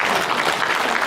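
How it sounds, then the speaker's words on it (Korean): Audience applause at a church gathering fills the moment, a dense, steady patter of many hands clapping together without a break. "박수 한번 칠래요"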